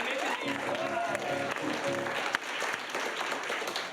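An improv comedy audience applauds a performer in a steady wash of clapping with scattered cheers, moderately loud. A voice speaks over it near the start.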